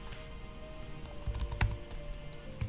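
Quiet, close clatter of fingers typing on a computer keyboard, a quick irregular run of light key taps lasting a few seconds with no talking.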